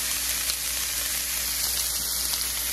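Vegetables and meat fry in a chili pot, giving a steady, gentle sizzle that stays even and fairly quiet with no talking.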